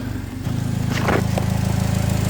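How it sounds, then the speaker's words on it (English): An overheating Vauxhall Corsa engine idles steadily with a low, pulsing exhaust rumble, close by and continuous, with a brief higher mechanical whir partway through. "You can hear the exhaust rolling away as well."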